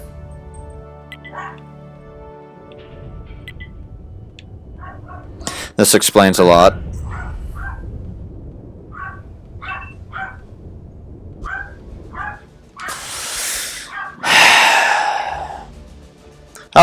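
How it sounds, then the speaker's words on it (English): A dog barks and whines repeatedly indoors, with short yips and whimpers scattered throughout and a couple of louder barks, while a person talks briefly over it. "I cannot shut my dog up."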